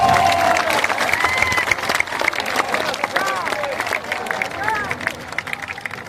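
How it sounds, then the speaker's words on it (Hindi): Applause from a crowd at a Jan Suraaj party event welcoming Manoj Bharti as party president, dense loud clapping that carries through the whole stretch, with crowd murmur and voices mixed in. "जोरदार ताली बजाइए।"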